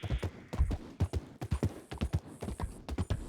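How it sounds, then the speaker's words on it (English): Horse hooves clip-clopping beside a horse-drawn wagon, a loud, close, uneven run of sharp hoofbeats that continues steadily throughout with no talk. "I heard a horse over there"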